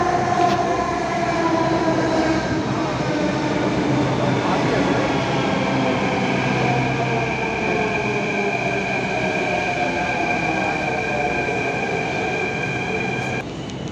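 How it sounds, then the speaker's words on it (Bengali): A metro train pulls into Jama Masjid station with a steady loud rumble and rising whine of motors and wheels over the whole span, ending with a brief screech as it slows. "মেট্রো আসছে"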